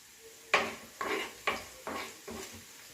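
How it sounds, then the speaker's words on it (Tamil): Onion, garlic and curry leaves sautéing in oil over medium heat, stirred with a spatula in five distinct scraping strokes about half a second apart over a faint sizzle, close and fairly quiet. "மிதமான சூட்டில் நல்லா வதங்கட்டுங்க. லைட்டாக கருவேப்பிலை போடுங்க. நல்லா வதங்கட்டும்."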